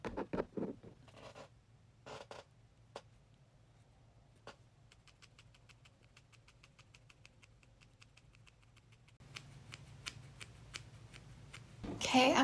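Scissors snip through long curtain bangs close by, with a few quick separate cuts followed by a fast run of small rhythmic snips, then louder handling rustle at the end.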